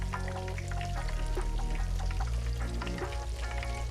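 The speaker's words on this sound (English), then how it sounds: "Now we're frying these up in vegetable oil at" Vegetable oil at 375 degrees sizzles and crackles steadily as chicken patties fry, heard alongside background music throughout.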